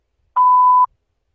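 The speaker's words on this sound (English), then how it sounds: "Please leave a message after the beep." Voicemail beep: a single clean, steady tone lasting about half a second, loud and isolated, with silence before and after.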